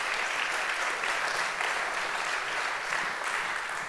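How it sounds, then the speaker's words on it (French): Continuous audience applause at an award ceremony for a methodology trophy, a dense, even wash of clapping that holds steady throughout without any voices on top. "On peut applaudir quand même."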